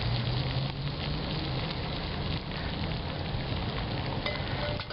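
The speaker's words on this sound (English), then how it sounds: "the rolling boil." Water at a rolling boil on a Littlbug Junior stove, a dense, steady bubbling roar that stays loud and continuous throughout, with no speech.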